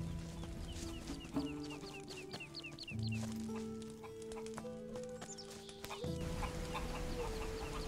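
Chickens cluck in the video game Götterdämmerung, mixed with steady clip-clopping hoofbeats and sustained game-music tones that shift pitch in steps.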